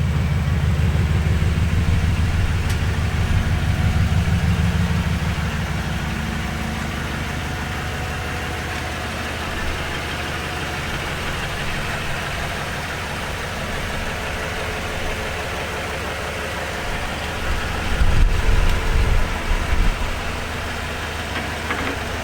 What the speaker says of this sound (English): So let's pull the truck in, let's install it on the truck